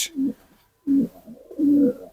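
Pigeons coo close by in three soft, throaty bursts separated by short pauses, each call a low rolling hum. They include domestic Giribaz cross-breeds and are kept in a loft.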